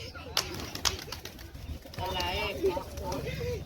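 Pigeons let out of their coop coo at close range after being fed grain, a soft repeated warbling that rises over background household noise while people talk nearby.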